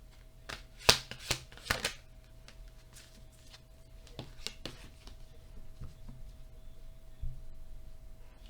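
A deck of cards is shuffled close by, with a burst of sharp riffling snaps at the start followed by softer scattered flicks and taps, fairly quiet against a faint steady hum.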